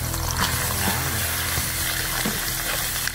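A whole slab of pork belly (liempo) frying in a pan over an outdoor cooking fire for pork adobo, giving a loud, dense, continuous sizzle with some stirring and scraping, close by.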